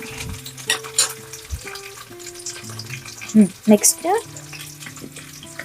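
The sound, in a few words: green chillies frying with browned onions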